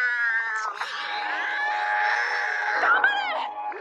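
Cats screech and yowl in a fight, a loud, continuous harsh caterwaul lasting several seconds with rising and falling wails and a final burst of shrieks near the end.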